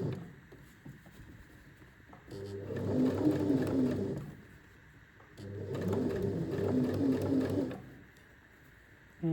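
A sewing machine stitches along a curved facing seam in two steady bursts of a few seconds each, separated by a pause, close and moderately quiet over a faint background hum.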